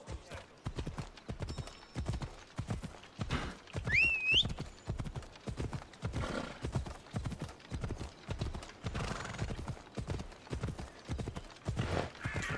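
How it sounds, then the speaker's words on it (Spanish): A horse in the video game Assassin's Creed Odyssey gallops with a steady, rapid rhythm of hoofbeats and gives one brief neigh partway through. Faint talk runs under the hooves. "No sé quién es este caballo, pero ahora es mío."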